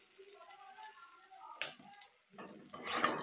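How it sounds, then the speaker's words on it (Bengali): Ground cumin stirred into a frying pan for a cauliflower and lentil dish: soft sizzling and scraping of the spoon, quiet and close, growing busier toward the end. "জিরে গুঁড়ো দিয়ে ভালো করে নাড়িয়ে নিতে হবে।"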